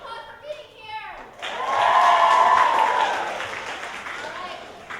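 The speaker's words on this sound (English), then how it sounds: "Give yourselves a round of applause for being here." A high school comedy show audience breaks into applause after a brief spoken line. The clapping swells quickly, holds for a couple of seconds, then tapers off.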